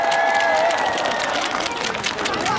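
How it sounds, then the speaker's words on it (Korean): A crowd applauds at an outdoor winter festival concert in Sangju, mixing clapping with some cheering. Near the start a voice is heard over it, and the applause then continues fairly loud before thinning slightly. "우리 사회자께도 여러분들 뜨거운 박수를 부탁드리겠습니다"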